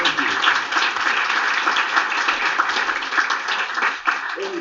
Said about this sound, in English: let's give Alan a nice round of applause